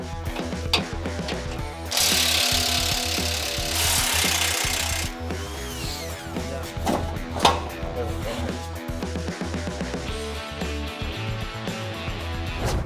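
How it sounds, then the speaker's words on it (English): A ratchet wrench clicks rapidly while removing the stock rear bumper bolts on a Ford Bronco, in loud close bursts with metallic rattling and a few sharp knocks. "There's 2 bolts passenger side, 2 bolts driver side, and it's off."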